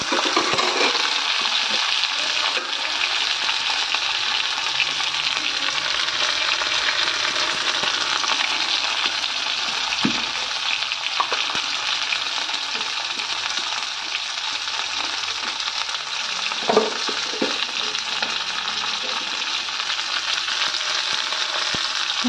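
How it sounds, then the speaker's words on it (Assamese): Bitter gourd fries in a pan with turmeric and salt, giving a continuous dense sizzle with a few soft knocks and stirs and no talk. "সেইখিনি এটা ফ্ৰাই কৰি ল'ম।"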